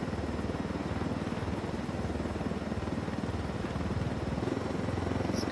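A helicopter flies in the video game Tom Clancy's Wildlands, a steady close rotor and engine drone with a rapid low chopping pulse that runs unbroken throughout, with no talk.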